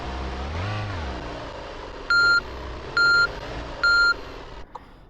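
Van reversing beeps in the Heavy Cargo trucking video game: three evenly spaced electronic tones follow an engine revving up and down, over a low idling engine hum.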